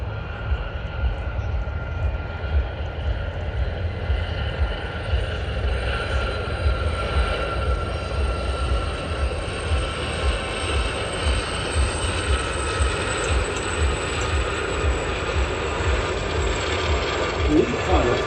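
Four Gazelle helicopters of the Gazelle Squadron fly a display at an air and country show, a steady loud rotor and turbine roar with rhythmic blade chop holding throughout.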